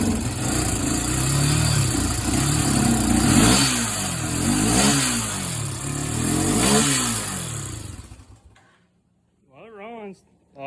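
Barn-find ATV engine revving in several rising and falling bursts, loud and rough, then cutting out; a voice speaks briefly at the end.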